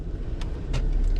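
Road traffic heard from the roadside, a constant low rumble with a couple of brief passing swooshes from vehicles, moderately close and with no talking.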